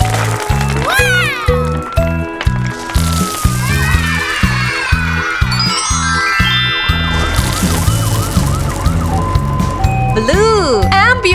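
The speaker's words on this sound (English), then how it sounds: "Blue ambulance." Ambulance siren in a children's nursery rhyme song, rising and falling electronic wails layered over a bouncy musical beat, with a child-like voice singing along.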